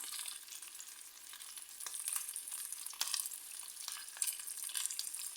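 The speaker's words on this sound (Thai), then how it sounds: "เดี๋ยวเราจะทอดไปเรื่อยๆ" Fish frying in a pan on a stove, a continuous soft crackling sizzle with scattered pops, fairly quiet and steady, no voices.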